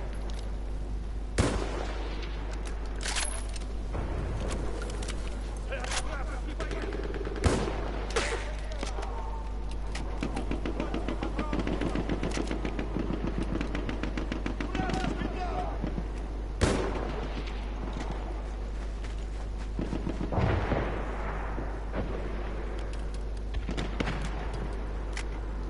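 Gunfire in the video game Battlefield 1, a long barrage of rifle shots and heavy booming blasts scattered over a constant low rumble, some sharp cracks standing out, with faint voices underneath.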